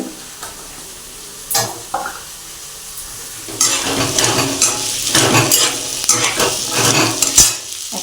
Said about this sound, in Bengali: এখন আলুটা দিয়ে একটু কষাবো